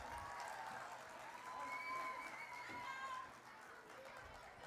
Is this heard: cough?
no